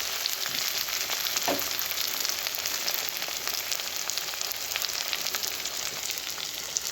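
Keerai greens sauté in oil for a chutney, with a continuous close sizzle and light crackling throughout and no talking.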